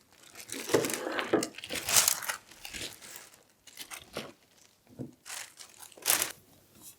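A sheet of glassine paper is handled while an oil pastel painting is protected for shipping. It makes close, repeated crinkling and rustling that rise and fall throughout.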